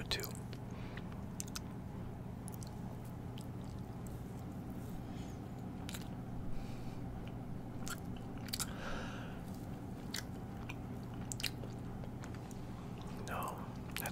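Close, soft chewing of a cream-filled Japanese sponge cake snack in Tokyo, quiet squishy bites and mouth sounds repeating irregularly over faint background hum.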